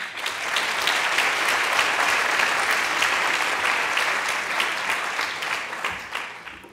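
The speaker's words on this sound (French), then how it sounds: "Je vous remercie, mais vous applaudissez avant le discours." An audience at a graduation ceremony claps in a sustained, dense round of applause that swells quickly, holds steady and then tapers off near the end.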